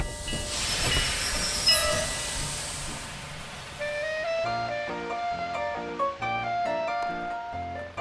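A train rumbles and hisses at a station for several seconds, then music takes over while the train noise carries on faintly beneath it.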